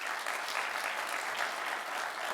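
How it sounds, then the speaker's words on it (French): An audience applauds loudly for a guest at a business pitch event, a dense, even wash of clapping that goes on steadily without any talk over it. "Il s'agit donc de M. Ibrahima Théolam, qu'on applaudit très fort."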